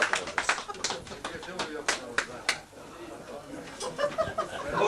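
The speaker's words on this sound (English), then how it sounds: "Can we have a nice round of applause from Paddy McCall" Pub patrons at the Palace Bar give Paddy McCall a scattered round of applause, a burst of separate claps fading into quieter murmuring and chuckles, then more clapping rising at the end.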